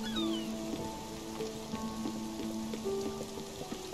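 Soft rain patters steadily in the video game Spiritfarer, a quiet even hiss with scattered drip ticks, layered under sustained melodic musical tones.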